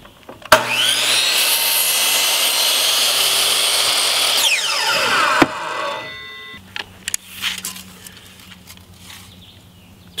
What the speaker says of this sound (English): I'm going to soften the edge of the post with a 45-degree angle cut at the top, almost like a chamfer, using a chamfer bit on a router